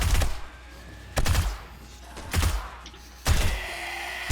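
A German submachine gun firing in the survival game 7 Days To Die, four short, sharp bursts spaced about a second apart, loud and close over a quiet background.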